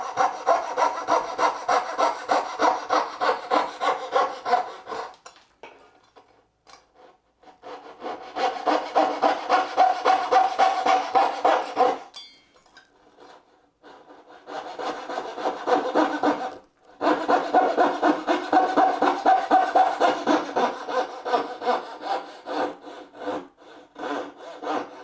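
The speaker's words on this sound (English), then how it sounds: "now what I'm going to do is cut slightly away from my line, so I can come back later with a chisel and clean it up" Hand saw cutting half-blind dovetails in wood for a shadowbox, working in steady back-and-forth rasping strokes over several bursts with short pauses between, close and clear, no talk.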